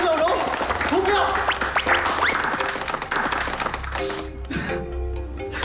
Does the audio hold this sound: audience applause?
yes